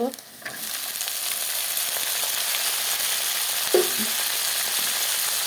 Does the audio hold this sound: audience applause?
no